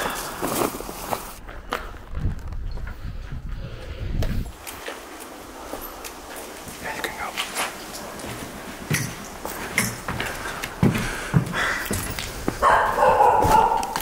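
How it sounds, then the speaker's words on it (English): Guard dogs bark repeatedly at an abandoned World War II movie set. Sharp, fairly close barks and yips come in irregular bursts amid footsteps and outdoor noise. "the warehouse is only guarded by dogs instead of soldiers. By barking, the security gets alarmed for possible trespassers."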